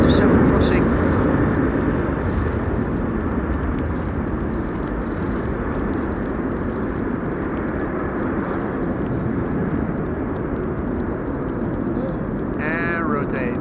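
An airliner takes off on a windy day at Amsterdam Schiphol Airport, a heavy continuous low jet roar mixed with wind buffeting, with a brief voice near the end.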